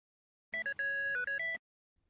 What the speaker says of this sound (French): la sonnerie de votre téléphone retentit soudainement